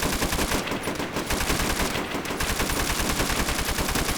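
A mounted machine gun in a Call of Duty: World at War custom map called Tokyo fires in a loud, rapid, unbroken stream of shots, close and dense for the whole stretch, with only brief dips in the high end.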